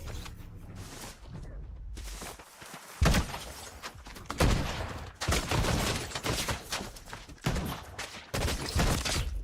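Gunfire from a weapon in Fortnite, loud bursts of shots coming in clusters with short pauses between, along with heavy thunking impacts.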